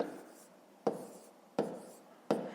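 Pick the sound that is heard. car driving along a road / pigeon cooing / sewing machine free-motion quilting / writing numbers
writing numbers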